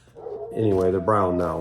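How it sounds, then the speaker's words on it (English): A hound dog next door lets out drawn-out, whining howl-barks, two rising-and-falling yowls after a short murmur, loud and fairly near, overlapping someone speaking. "Sorry about the hound dog next door."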